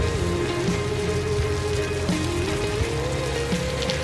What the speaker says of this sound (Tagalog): Kakainis naman, tagal tumila ng ulan.